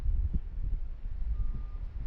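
A pushback tug reversing a Malaysian A330 at Sydney Airport gives a single short reversing beep, heard faintly in the distance under heavy, gusty wind rumble on a windy, rainy day.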